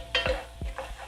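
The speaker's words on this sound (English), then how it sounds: "we're gonna let these onions cook just a bit" Onions stirred in a frying pan, with a few scraping stir strokes over a soft sizzle, close up and without talk.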